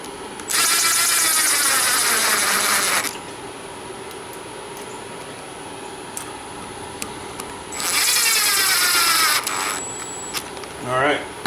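Power drill driving bolts into a Banshee clutch and kicker assembly, running in two loud sustained bursts of a few seconds each separated by a quieter gap.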